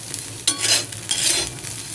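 Sesame seeds fry in hot oil while being stirred, a steady bright sizzle with scraping swells as the spoon moves through the pan, close and alone without talk.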